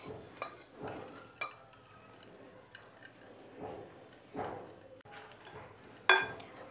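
Flour being mixed into batter in a bowl for a vegetable egg paratha, soft irregular scraping and stirring strokes with occasional light clinks of a utensil against the bowl, fairly quiet and close.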